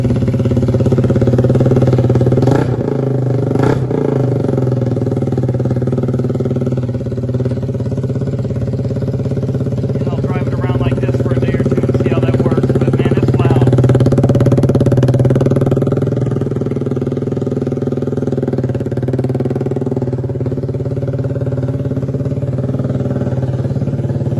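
Kawasaki Z125 motorcycle fitted with a loud KO Lightning exhaust idles near the microphone, a raspy steady burble with a couple of short throttle blips early on, continuous and fairly loud, with no talking.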